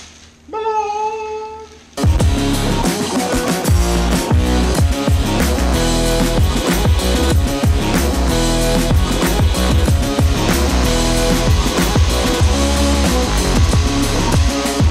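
A mower blade sharpener starts up after a brief tonal whine, then runs as a loud, steady, dense grinding roar that continues without a break for the rest of the stretch.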